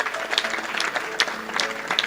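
A church congregation at a French-language thanksgiving service breaks into steady applause and cheering for Jesus Christ, a dense, continuous patter of many hands clapping nearby.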